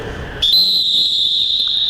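A referee's whistle at basketball practice, one sharp shrill blast that holds steady, close and loud, with no talk over it.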